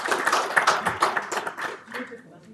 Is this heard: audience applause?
yes